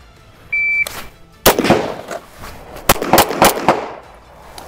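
Sharp, loud rifle and pistol gunshots crack out on a range during a rifle-to-pistol transition drill, one early blast followed by a cluster of rapid shots a few seconds later, with a brief electronic beep just before.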